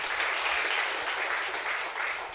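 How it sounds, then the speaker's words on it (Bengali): Audience applause at a club training event, steady dense clapping from a crowd, continuous and moderately distant, with no voices standing out. "আমরা এই ম্যাডামের জন্য আরও একটা হাততালি।"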